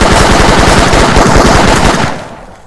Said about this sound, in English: Why are you shooting me so much?